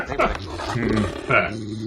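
A dog in the film Ferris Bueller's Day Off lets out a low, throaty growl in two close snarling bursts, loud and near, heard alone.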